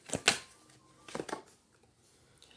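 Tarot cards are shuffled close up in a quiet room, giving a couple of quick riffling bursts, a shorter flurry and a final soft tap, with near silence in between.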